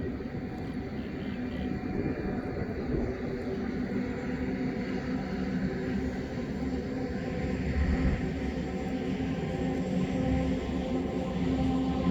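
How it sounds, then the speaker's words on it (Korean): A train passes outside on a day of drifting white clouds, a steady broad rumble holding at an even level for the whole stretch, with no talk over it. "기차가 지나가고"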